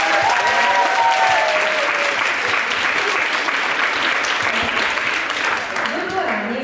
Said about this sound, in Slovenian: Dajmo en aplavz za vse to.